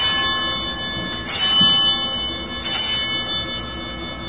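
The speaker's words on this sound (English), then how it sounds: "the bells had somewhat of a practical purpose as well" Church bells rung during the Eucharist in a cathedral service: two loud, bright strikes about a second and a half apart, each ringing on and slowly fading, with no voices over them.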